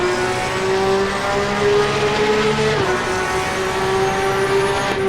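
Porsche 911 GT3 Cup racing car at Donington Park in Assetto Corsa Competizione, its engine droning steadily at high revs with a brief pitch dip as it shifts, then pulling again, loud and constant.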